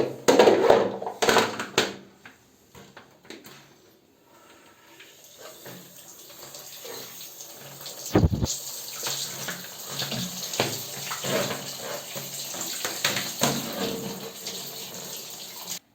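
Toilet parts are rinsed under a running tap: water gushes and splashes steadily at close range, quieter at first and then a fuller, continuous stream, with no talking.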